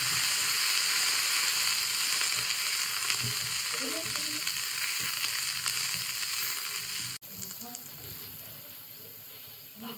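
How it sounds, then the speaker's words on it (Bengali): Sliced eggplant frying in hot mustard oil in a heated wok, a loud, dense, continuous sizzle close up, with faint stirring and a brief dip in level near the end. "সর্বপ্রথমে আমি বেগুন কাটা হালকা করে ভেজে নেব।"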